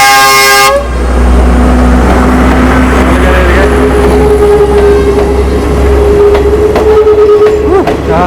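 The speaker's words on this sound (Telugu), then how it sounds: "హార్న్ కొడుతుందండి, ట్రైన్ వచ్చేస్తుంది" A train pulls into a station in Sri Lanka, its horn blaring loud and close at the start before the heavy rumble of the approaching wagons takes over, with a long squealing tone running beneath steady rolling noise.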